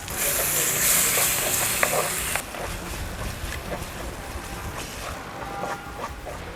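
Chopped tomatoes go into a hot pan with ginger, garlic and turmeric, giving a strong hiss that drops suddenly after a couple of seconds into a softer, steady sizzle with light stirring, heard close up.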